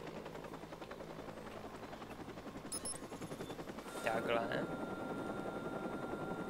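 A helicopter in the video game Watch Dogs drones with a steady rotor chop throughout, overlaid by bursts of rapid gunfire and a brief spoken word.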